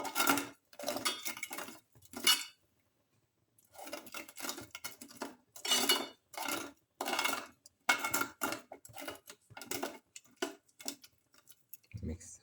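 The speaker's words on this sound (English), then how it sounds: "Thoroughly mix." A spoon stirs cardamom rice flakes dessert soup in a pot, giving bursts of scraping and clinking against metal in irregular rhythm, near and moderately loud, with brief pauses between strokes.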